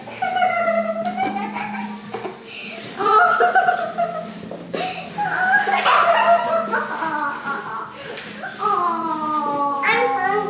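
A puppy yaps and barks a few times indoors amid children's chatter, giggling and an adult voice, the barks close and mixed in under the lively family talk.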